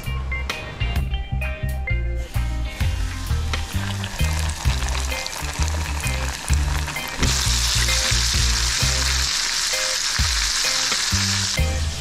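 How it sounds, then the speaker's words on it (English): Floured mutton snapper frying in hot oil, a loud continuous sizzle with bursts of crackle, over rhythmic music, growing brighter and more intense partway through. "So I'll put on the oil now and fry up them things."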